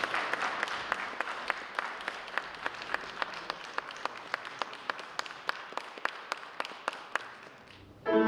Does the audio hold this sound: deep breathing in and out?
no